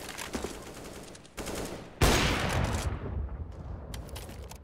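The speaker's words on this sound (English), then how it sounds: "Throwing a flashbang" A flashbang grenade goes off in a video game, a sudden loud broadband blast that rings on, with bursts of gunfire before and after it and no talking.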